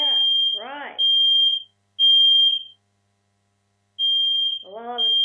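A building fire alarm sounds in shrill, piercing beeps, loud and close, repeating in long tones with gaps, while a person talks between and over the blasts.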